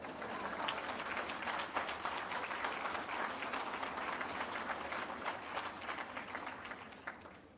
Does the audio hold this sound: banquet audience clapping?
yes